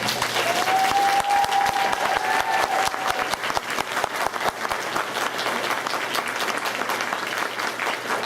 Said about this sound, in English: So if we could have a round of applause for David.